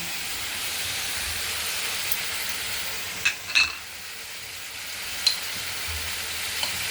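Spices hit hot oil for a soybean and egg curry, giving a steady, broad sizzling hiss with a few sharp pops and crackles near the middle, close and continuous without talk.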